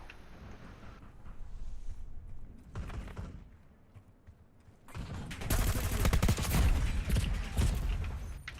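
Bursts of rapid gunfire from a Call of Duty match crackle through a quieter stretch, then swell into a loud, dense fusillade of overlapping shots during the last few seconds.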